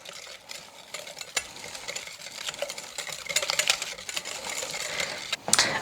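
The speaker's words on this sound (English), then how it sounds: "So give it a stir." Spices being stirred in a pan for a blackened trout and Cajun rice meal, a steady close scraping and rustling that runs throughout, growing busier toward the end with a louder clatter near the finish.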